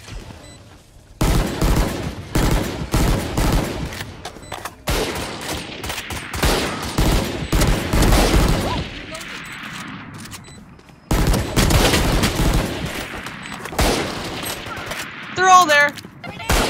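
Gunfire in the tactical shooter Valorant, rapid bursts of shots in several clusters with brief gaps, loud and close, mixed with game effects and a player talking over it.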